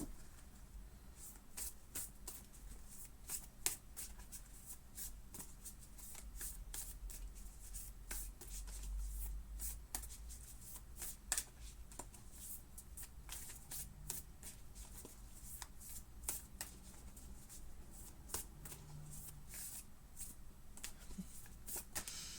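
Moonology oracle cards being shuffled continuously for over twenty seconds, soft rapid riffling and slapping with periodic sharper snaps as the deck is bridged, close and quiet with no talking.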